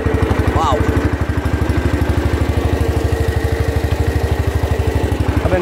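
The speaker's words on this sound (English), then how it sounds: "This tractor's pretty quiet without the straight pipe." Small garden tractor engine idling close by without its straight pipe, a fast, even, throbbing putter that runs steadily, with a brief faint chirp over it.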